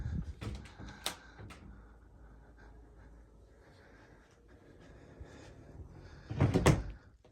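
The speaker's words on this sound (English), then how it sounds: "let's put this door back down" A counterweighted door in a house is lowered back down: a few sharp knocks and clunks at the start, then quiet creaking, and a louder closing thud near the end.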